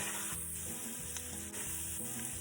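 Ingredients browning in a pot for Portuguese bean soup, a steady low sizzle and fry hiss with a few faint stirring touches, close and quiet.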